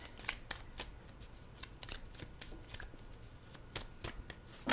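A tarot card deck is shuffled and cut by hand: a quick run of crisp riffling flicks and soft card slaps, close and fairly quiet, with no voices.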